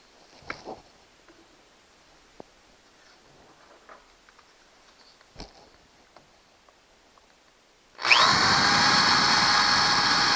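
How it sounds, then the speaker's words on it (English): Quiet clicks and handling noises, then a power drill in reverse with a left-hand drill bit, drilling out a broken screw in a Craftsman leaf blower, suddenly whines loudly and runs steadily for the last couple of seconds. "Left end drill bit."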